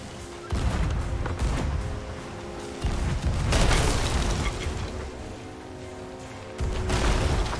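Cannon fire in Sea of Thieves, heavy booming blasts in several loud bursts with rumbling between them, fairly close.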